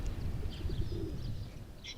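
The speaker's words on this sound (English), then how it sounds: "See the pigeons make that sort of like cooing sound." Pigeons cooing softly under a heavy bed of low outdoor rumble, their low murmuring coos faint and partly masked, with a few light chirps on top.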